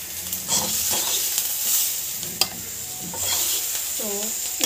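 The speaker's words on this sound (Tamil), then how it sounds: "நம்ம வந்து ஆயிலெல்லாம் போடல, அப்படியே வந்து வதக்கி போகிறோம்" Onion and tomato sauté in a dry pan without oil, giving a continuous close sizzle with scraping stir strokes, and a brief voice is heard near the end.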